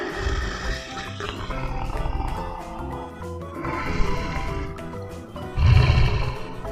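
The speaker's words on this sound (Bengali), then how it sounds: "চতে চিতাবাঘ" A cheetah gives a loud, rough roar, with repeated growling bursts across the clip and a final deep, powerful roar near the end.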